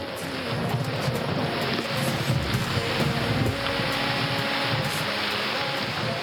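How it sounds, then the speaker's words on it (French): Strong wind from a passing squall roars and buffets the microphone in rising and falling gusts, with a churning, watery rush underneath. "D'abord la pluie, puis les rafales de vent et enfin les éclairs."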